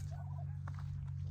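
A short gobbling call from a pasture-raised turkey on a farm, a quick rippling burst over a constant low hum of machinery or wind.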